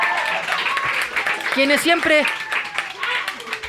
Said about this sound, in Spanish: Un aplauso para GOM Producciones.